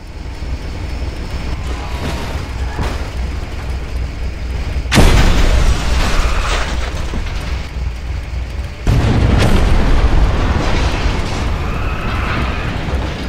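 Two heavy missile explosions boom in Just Cause 2, each a sudden loud blast that rolls into a long rumbling roar over a constant background din of action, with no talking.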